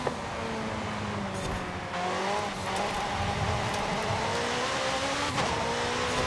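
A McLaren 650S races in Forza Horizon 5, its engine droning steadily and loud with rising pitch sweeps from acceleration and gear changes, alone without talk.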